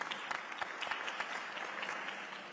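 Applause from an audience at a UN-Habitat Assembly session, greeting the first remarks from government ministers; a dense, steady patter of many hands clapping together, fairly close, with no voices over it.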